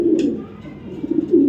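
Racing pigeons coo in low, throaty repeated calls close by, with a faint higher chirp near the start and soft background rustle.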